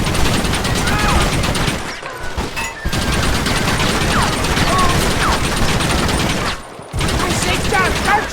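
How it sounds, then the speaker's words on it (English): Gunfire in the video game Red Dead Redemption rattles in loud, dense volleys of overlapping shots, broken by two brief lulls, amid shouting voices. "Why are they all shooting at me?"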